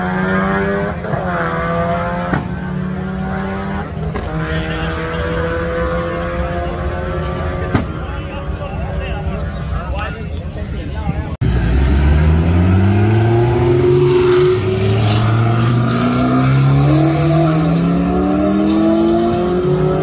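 A bolt-on Ford Mustang races, its engine revving hard with rising, sweeping pitch, then a second loud engine takes over close by and accelerates through repeated gear climbs.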